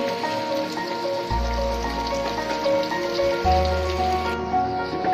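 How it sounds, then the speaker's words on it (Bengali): Onion and ginger frying in a pan, a close, continuous crackling sizzle over a low steady hum, with no one speaking. "এখন পেঁয়াজটা, আদাটা সবকিছু একটু ভালো করে ভেজে নেব, একটু লাল লাল করে ভেজে নেব।"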